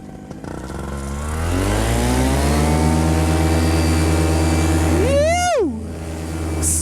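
A small aircraft engine drones steadily and close during morning touch-and-go practice, its pitch climbing slightly early on, with a brief rising-and-falling vocal whoop breaking over it near the end.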